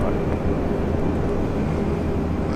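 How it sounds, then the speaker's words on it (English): Jet engine roar from a Velocity Boeing 737-700 taking off from runway 19 left at Brisbane International Airport, bound for Sydney; a steady, loud, broadband rumble that holds throughout with no talk. "Velocity 737-700 off to Sydney."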